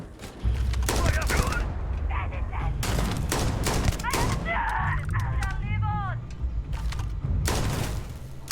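Ballistic weapon gunfire in the Starfield video game, with loud bursts of rapid shots in clusters separated by short gaps, interspersed with whirring, chirping sci-fi effects.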